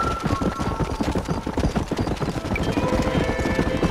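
Horse hooves in Red Dead Redemption clip-clop in a quick, steady galloping rhythm, close and loud throughout, with a faint whinny-like tone at times.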